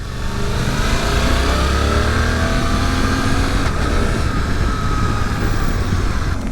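A 2024 Suzuki V-Strom 800RE motorcycle on the road, its engine droning steadily with rising and falling tones under heavy rushing wind noise, loud and continuous throughout.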